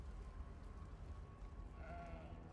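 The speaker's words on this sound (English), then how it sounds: "Oh, just fucking sheep noises." Faint sheep bleats from the game Elder Scrolls Online sound softly under a steady, low background hum, one wavering bleat standing out near the end.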